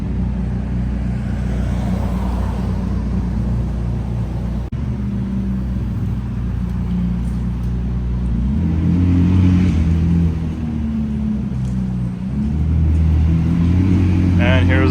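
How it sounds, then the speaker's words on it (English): A McLaren Sabre pulling away from a car gathering, its engine rumbling low and steady before swelling into revs as it drives off, heard from a roadside corner with other traffic around. "And here's a Sabre pulling out right there."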